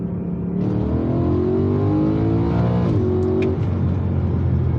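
A BMW E92 M3 engine rises in steady revs from inside the car, then drops with sharp throttle blips as it downshifts, loud and continuous with no speech.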